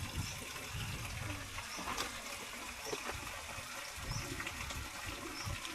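Coconut vinegar and water poured together into a pot of mixed fish (banak, tilapia and mudfish) being prepared for paksiw, a steady close trickle of liquid running throughout.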